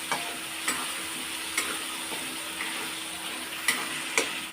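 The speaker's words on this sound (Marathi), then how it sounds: "आपण आता छान असं परतून घेतले टोमॅटोची काजूची पेस्ट" Tomato and cashew paste sizzles steadily as it is stir-fried in oil for a dhaba-style paneer masala. A spoon scrapes and clicks against the pan a few times, and no voices are heard.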